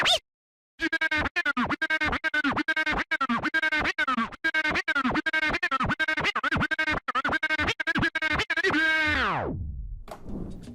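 Rapid rhythmic crab scratches on a DJ turntable record, a dense run of short choppy stutters cut by quick fader taps, loud and close, ending in a slowing pitch drop.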